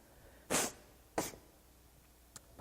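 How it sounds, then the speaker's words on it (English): Three quick sniffs from a person with allergies at a conference talk, two strong sharp inhales close together followed by a fainter short one, against a quiet room. "Pardon the sniffling,"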